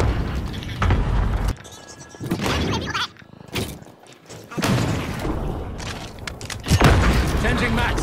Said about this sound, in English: Enemy cluster strike is coming.